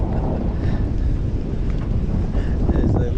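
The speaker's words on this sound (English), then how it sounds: "There's a little bit of wind happening, but it's alright, it's quite nice today." Steady wind on the South Australian coast of the Yorke Peninsula, buffeting the microphone with a loud, continuous low rumble and no pauses.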